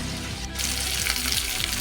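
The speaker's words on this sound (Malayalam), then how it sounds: "എല്ലാ മീനും നമ്മൾ തിരിച്ചിട്ടിട്ടുണ്ട് ആ സൈഡിൽ തന്നെ നന്നായിട്ട് വെന്ത് മുരിഞ്ഞ് വരണം" Fish frying in oil in a pan after being flipped, a loud, close, continuous crackling sizzle.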